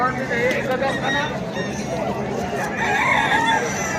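Roosters at a cockfight fair crow over a dense crowd babble, with long wavering calls rising out of steady chatter from many people close by.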